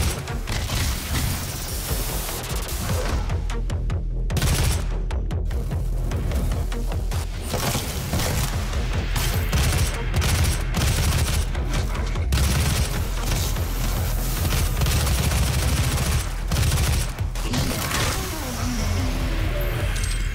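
Rapid assault rifle gunfire in the first-person shooter Doom, bursts rattling loud and dense alongside explosions and game noise, continuing steadily for about twenty seconds.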